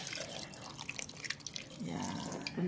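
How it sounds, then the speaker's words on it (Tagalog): Water splashes and trickles onto cooked jellyfish on a table in a home kitchen, a soft, steady pour with faint drips, quiet and close. "Lagyan po mga kuragon ng tubig."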